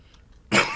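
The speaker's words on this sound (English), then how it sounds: "Clear my throat." A person makes a sudden, fairly loud single throat clearing, a rough burst that follows near silence while gaming.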